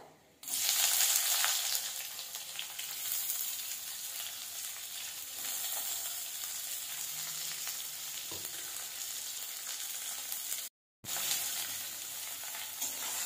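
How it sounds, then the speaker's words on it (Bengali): Chopped onions fry in a kadai with a loud, steady broadband sizzle that runs almost unbroken, cut once by a brief silence near the end, with no voices. "ভেজে নেব পেঁয়াজটাকে, হালকা করে প্রথমে ভাজবো এটাকে আমি"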